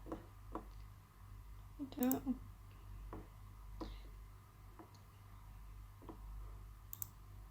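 Sparse, light computer mouse clicks while extracting a zip file, several single taps spaced a second or so apart over a low room hum, quiet and close.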